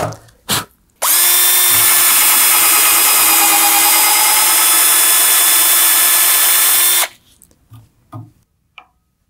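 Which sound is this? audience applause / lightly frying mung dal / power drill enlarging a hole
power drill enlarging a hole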